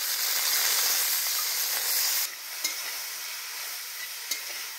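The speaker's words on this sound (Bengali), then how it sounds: "তেলের উপর এই শাকটা ছেড়ে দেব।" Leafy greens dropped into hot oil hiss loudly at first, then settle into a softer, steady sizzle with a couple of faint clicks of stirring.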